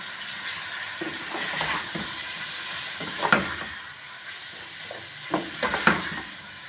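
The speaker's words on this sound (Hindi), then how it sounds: "अब मैं इसमें 1 टेबलस्पून लहसुन अदरक का पेस्ट डालूँगी। इसको अच्छी तरह से भूनना।" Ginger garlic paste fries in a hot pan for mutton achar masala, giving a steady sizzling hiss with a few sharp spoon clinks and scrapes against the metal.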